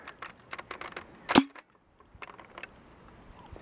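A rocket fired in a video game lets out a single sharp, loud blast, preceded and followed by scattered quieter clicks and game noises.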